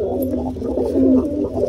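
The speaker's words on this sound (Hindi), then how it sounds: "ये कबूतर का बच्चा बाहर आ गया, ये देखिए और एक बाहर आ रहा" Pigeons cooing inside a loft housing black fantail pigeons, a steady low murmuring coo that runs continuously and fairly close throughout, with no talking.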